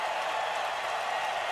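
Stadium crowd applauding and cheering in a steady, dense wash of clapping during an NFL game, Patriots versus Bengals, saluting Bengals defensive tackle Devin Still; sustained and even throughout with no clear voices on top.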